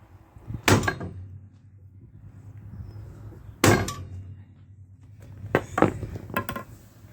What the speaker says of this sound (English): Maybe we'll give her another whack and see if we can get it straightened